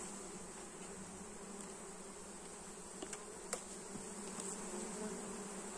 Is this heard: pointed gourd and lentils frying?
no